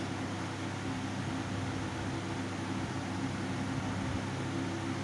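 Chicken pieces frying in hot oil with curry leaves over a low flame, giving a steady, even sizzling hiss that holds at a constant level throughout, with no voices.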